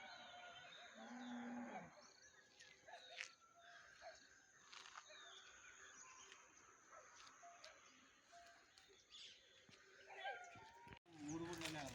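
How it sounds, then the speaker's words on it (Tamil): Cattle being herded out to graze moo a few times in a rural setting with coconut palms and rice fields, the lowing clear over steady outdoor ambience and distant bird calls. "மாடு மேய்க்கிறதுக்கு எல்லாம் கூட்டிகிட்டு போகிறாங்க."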